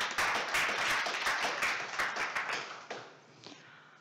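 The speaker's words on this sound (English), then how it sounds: "So an applause," Audience applause at a conference talk, dense clapping from a room of people that holds steady for a few seconds, then thins to a few scattered claps and fades.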